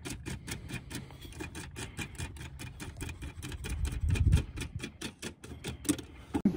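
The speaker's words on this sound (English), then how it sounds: "now we're just going to take the bolts and secure the emblem" Bolts being tightened to secure a car emblem, a rapid run of evenly spaced metallic clicks like a ratchet wrench, close and steady, with a few louder knocks near the end.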